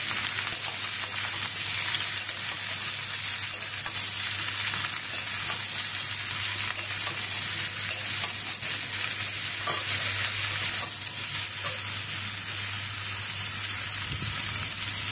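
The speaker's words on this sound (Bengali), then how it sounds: "তেলটা গরম হয়ে গেছে। এখন এক এক করে দেখো কাঁঠালগুলো দিয়ে দিলাম। দিয়ে একটু নেড়ে নেব।" Jackfruit pieces fry in hot oil with a steady, loud sizzle and crackle, while a utensil stirs them through the pan at intervals.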